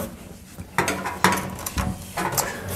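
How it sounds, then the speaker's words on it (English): A metal clamp is fitted and tightened onto a car body panel while building a cab corner and floor section for a 1939 Hudson rat rod, giving a few close, separate metallic clanks and ratcheting clicks at irregular intervals. "Get a clamp in there."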